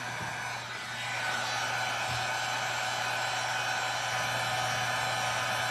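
Hair dryer blowing steadily on a hat, a loud continuous airy whoosh with a constant motor hum, close and unbroken throughout with no talk.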